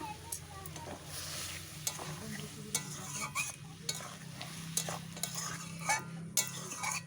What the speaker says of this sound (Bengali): এরপর দেব জল দিয়ে ভালোভাবে নাড়াচাড়া করে আমি সব সবজির সাথেই মিশিয়ে নেব।